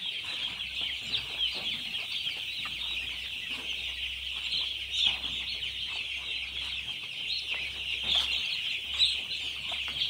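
Broiler chicks in a brooding pen keep up a dense, continuous chorus of high peeping and cheeping, with overlapping calls close by and a faint low hum underneath, no voices.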